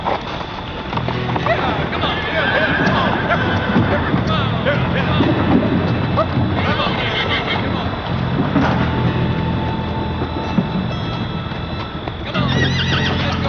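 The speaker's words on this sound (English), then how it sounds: "Those are wild horses." Horses neigh and whinny amid clip-clopping hooves, a busy herd close by with overlapping calls throughout.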